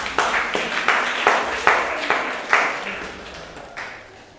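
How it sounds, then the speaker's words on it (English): A small audience at an artist's open studio presentation claps in a short, loose burst of distinct hand claps that fades after a few seconds. "Applause for Mercedes."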